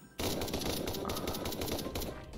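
Rapid automatic gunfire from a PUBG-style Minecraft battle game rattles in dense, loud bursts almost without pause, with a faint voice underneath.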